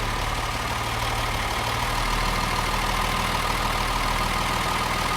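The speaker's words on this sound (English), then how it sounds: "So we're going to adjust the idle a little bit." A classic Mercedes-Benz engine idles steadily and close by while its idle speed is being adjusted, a continuous low rumble whose pitch shifts slightly partway through, with no talking.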